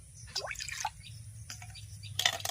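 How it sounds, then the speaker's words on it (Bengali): Water goes into a kadai wok, with a few light drips and plops and then a brief, brighter splash at the end, close and fairly quiet. "এই কড়ার মধ্যে জল দিয়ে দেব এক বাটি আর হাফ বাটি"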